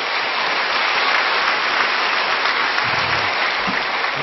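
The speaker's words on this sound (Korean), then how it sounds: "역사하신 하나님께 감사의 박수를 올려드리겠습니다." A church congregation claps in thanksgiving during a worship service, a loud, dense and even roar of many hands, sustained throughout like heavy rain, with no talking over it.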